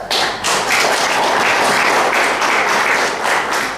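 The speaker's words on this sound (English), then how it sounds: "Our speaker deserves a big round of applause" Loud, close audience applause for a speaker at a Toastmasters graduation gathering, many hands clapping in a continuous dense patter that swells quickly and holds steady to the end.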